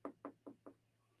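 Four quick knocks on wood, evenly spaced and close, land in a tight burst and then stop, followed by a quiet background hum.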